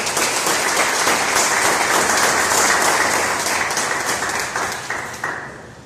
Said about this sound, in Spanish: ¿Alguien quisiera dar un aplauso al Señor Jesucristo?